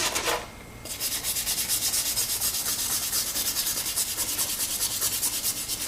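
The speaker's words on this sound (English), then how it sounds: "This might be the hardest brush that I have to use." A stiff brush scrubs an old knife with fast, rhythmic strokes, a close, gritty rasping that repeats steadily after a brief pause at the start.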